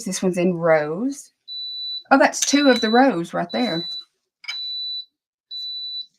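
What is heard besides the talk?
clothes iron beeping alert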